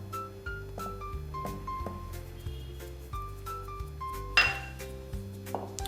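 Cake batter of flour and milk powder for an orange cake is stirred in a bowl, a utensil repeatedly scraping and clinking against the sides in a steady rhythm, close and clear without talk.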